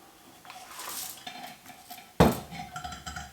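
Stainless steel lid handled and set onto a stainless steel boiler, light metallic rattling followed by one sharp clanking contact and smaller clinks as it settles, close by.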